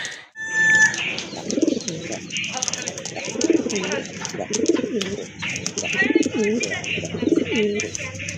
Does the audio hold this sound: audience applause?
no